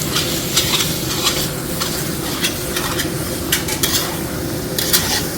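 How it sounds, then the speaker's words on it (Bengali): Mutton pieces go one by one into hot oil in a large pot at a picnic-style cookout, giving a loud continuous sizzle with repeated scraping and clinking of the spatula. "তেলটা একটু এবার এর মধ্যে চলে যাচ্ছে একে একে মাংসগুলো"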